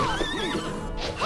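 A horse neighing in the Bloodstained: Ritual of the Night video game, one loud wavering whinny with rising and falling pitch, close and alone with no talk.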